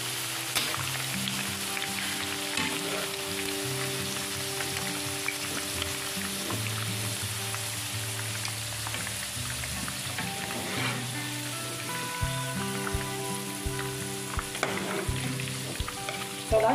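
Sliced bitter melon frying in oil in a pan makes a steady, dense sizzle throughout, with occasional stirring scrapes, and no one speaks.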